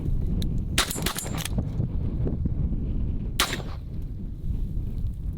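A 12 gauge shotgun loaded with 7.5 bird shot fires during trap shooting outdoors, a loud sharp burst of blasts early on and a second single report a few seconds later, over steady background noise.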